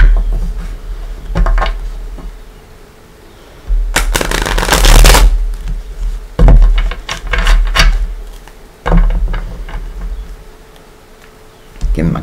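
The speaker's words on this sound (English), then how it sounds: "couple shuffles." A deck of Gilded Tarot cards is shuffled in several close bursts of riffling and sliding, the longest lasting about a second and a half, with quieter rustles and taps between them.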